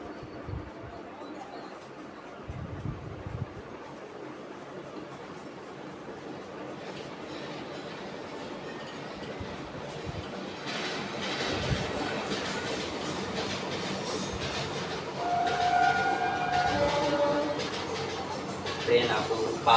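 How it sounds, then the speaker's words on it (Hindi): A train passes by, its rumble and clickety-clack of wheels on rail building steadily and growing louder toward the end, with a brief squeal, while someone talks throughout. "ट्रेन आपको पास हो रहा है तो पलट में ट्रेन जा रही"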